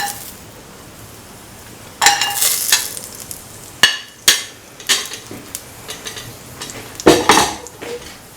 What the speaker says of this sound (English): Now put in the cashew.